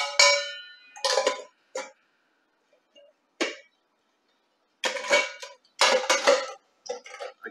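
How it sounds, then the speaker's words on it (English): Metal pots and cups clinking and clanging together in several short bursts separated by quiet gaps. "Next, we have the mess kit."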